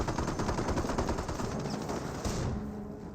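Sniper and small-arms gunfire in the World War II strategy game Company of Heroes, a dense rattle of rapid shots and bursts filling the whole clip, loud and continuous before easing slightly at the end.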